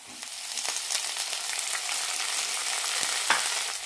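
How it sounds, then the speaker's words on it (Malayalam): Chopped tomato and green chilies hit browned onion in a pan for an ivy gourd curry, frying with a steady close sizzle and occasional stirring scrapes, no voices. "ഇതിലേക്ക് തക്കാളി ഇടാം. തക്കാളിയുടെ കൂടെ പച്ചമുളകും ഇടാം."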